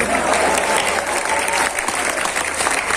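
An audience applauds throughout, a dense, steady wash of clapping from a crowd at a Hindi poetry recital, with murmuring voices faintly beneath.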